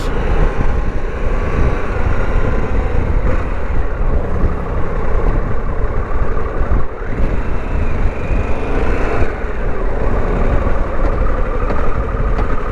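A 2021 Harley-Davidson Pan America 1250 S, ridden on the street, gives off a loud, continuous engine drone that rises and falls with the revs, with wind rush and no talking.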